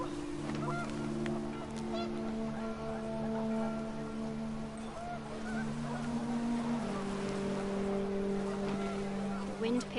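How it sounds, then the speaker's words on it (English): Panicked geese honk in the video game What Remains of Edith Finch, with repeated, drawn-out calls over a constant windy, rain-like wash that runs throughout. "The wind picked up and panicked geese appeared and quickly went."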